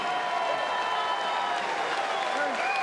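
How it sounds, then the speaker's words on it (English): Applause and crowd noise at a BKFC bare-knuckle fighting event after a main-event bout, a steady dense roar of clapping and arena crowd at moderate level, with an announcer's voice faintly mixed in. "let's have a round of applause"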